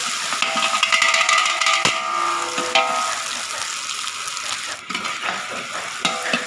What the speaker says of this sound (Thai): เสร็จแล้วก็ผัดให้หอมนะครับ